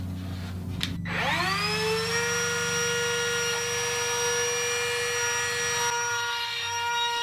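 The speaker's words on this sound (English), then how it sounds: "we'll resume routing in circles" A handheld router spins up sharply and then holds a loud, steady high-pitched whine close by while cutting the rosette channel in an acoustic guitar top, with no talking.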